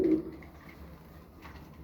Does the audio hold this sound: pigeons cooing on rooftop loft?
yes